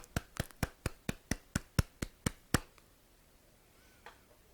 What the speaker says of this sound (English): Then, give a big round of applause for them.